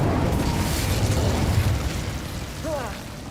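A Confringo blasting spell in the Hogwarts Legacy video game, a loud close burst and boom that rumbles and fades over a few seconds, followed by brief whooshing spell effects.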